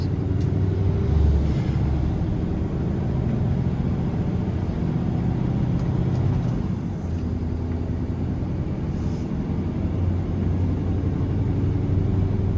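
A Scania 770S V8 heavy haul truck pulls an 80-plus-tonne load uphill in New Zealand, its deep engine rumble steady and smooth with only slight dips as gears change, continuous and close with no voices.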